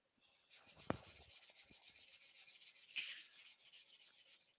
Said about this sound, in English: I'm just sanding these end grain bits a little.